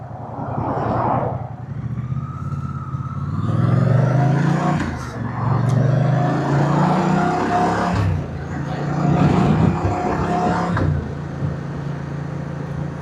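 A 2025 Moto Guzzi Stelvio motorcycle pulls hard in fourth gear, its engine note rising in pitch as revs build, with wind rush and a couple of swells and dips in throttle, close and fairly loud.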